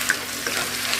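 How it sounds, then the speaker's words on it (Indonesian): Spice paste for beef rib soup sizzles and fries in a pan, a soft, steady crackle with small pops, close and alone with no talking. "Ini kita tumis dulu buat bumbunya."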